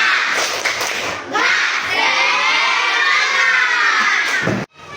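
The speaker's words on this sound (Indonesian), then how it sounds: "coba tepuk semangat." A class of schoolchildren does a rhythmic spirit clap, a few quick claps followed by a loud, sustained group shout that stops abruptly.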